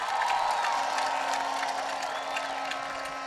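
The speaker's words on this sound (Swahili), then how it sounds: "Jamani, makofi na vigelegele." A crowd applauds and ululates at a family celebration for a girl returning to school, with dense, continuous clapping and a sustained high trilling cry running throughout.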